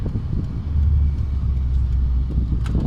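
A Mercedes with a failing clutch pulls along in second gear, its engine rumbling low and revving continuously from inside the cabin, with a brief rise in noise near the end.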